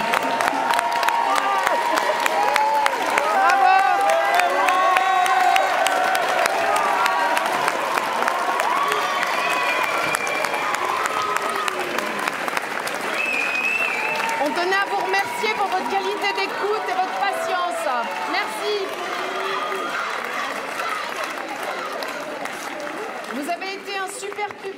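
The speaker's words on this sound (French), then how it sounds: "On les applaudit encore bien fort avant de se quitter." A crowd applauds and cheers at the close of a public-speaking event, sustained clapping blended with lively chatter and scattered voices throughout, fairly loud and continuous.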